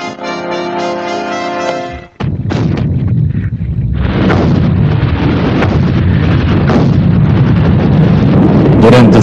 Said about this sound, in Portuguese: a artilharia britânica fustigou as trincheiras alemãs